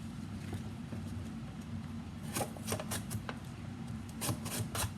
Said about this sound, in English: I'm using this to slice my potatoes up into slices.